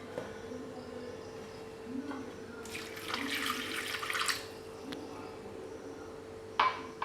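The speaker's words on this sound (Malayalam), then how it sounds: "ഇനി നമുക്കിതിലേക്ക് ആവശ്യത്തിനുള്ള വെള്ളം ചേർക്കാം." Water is poured into a clay cooking pot: a soft, faint splashing stream that swells for a couple of seconds, then gives way to quiet dripping and a light clink near the end.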